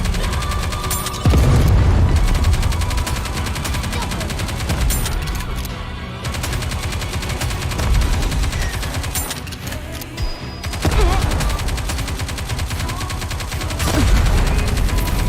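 Dense, loud gunfire from the video game Nikke, with rapid automatic bursts and booming impacts that barely pause, layered over game music and effects.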